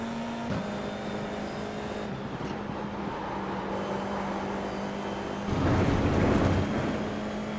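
Formula 4 race car on track at Summit Point Raceway, its engine holding a steady loud drone from the driver's seat, with a brief gear-change dip early and a louder surge of rising revs near the end.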